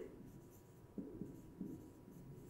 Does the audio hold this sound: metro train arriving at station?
no